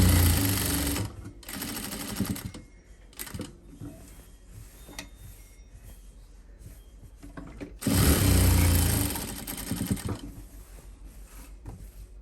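A sewing machine stitches a fabric pocket in two loud, steady runs of fast mechanical whirring, separated by a quieter stretch with faint handling clicks.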